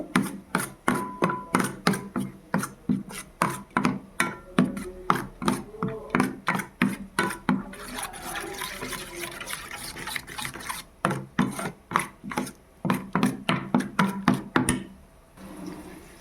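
A paste of mustard, poppy seed and green chilli is beaten hard in a bowl, giving rapid, rhythmic wet slaps and scrapes in steady bursts with brief pauses, close up and without talk.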